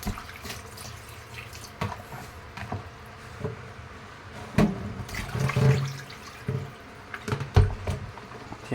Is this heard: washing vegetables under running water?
yes